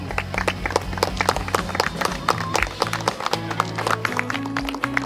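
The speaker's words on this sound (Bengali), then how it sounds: "একটু জোরে হাততালি হোক সবাই মিলে" An audience at a stand-up comedy evening in a resort claps in a dense, steady patter of many hands, with music and voices underneath.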